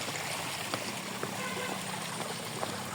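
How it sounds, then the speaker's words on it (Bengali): A small roadside waterfall at Alutila keeps up a steady broadband rush of falling water, with a few light splashy ticks on top and no voices. "পানি পড়তেছে আসছে"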